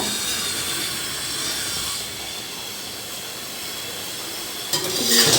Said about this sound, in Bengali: এদিকে জামাই চিকেন রান্না করছে